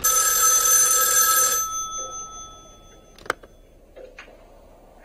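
A telephone bell rings loudly in a scene from the 1974 horror film Black Christmas, the bright ring lasting about a second and a half, then stopping, followed by quiet room tone with a couple of sharp clicks.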